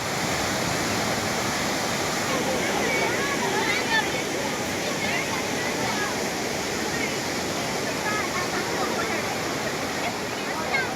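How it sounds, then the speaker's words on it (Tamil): Flood water from the Courtallam main waterfall pours down in a continuous, loud, dense roar that holds unbroken throughout. "குற்றாலம் மெயின் அருவியில் அபாய வளைவை தாண்டி கொட்டும் வெள்ளம்."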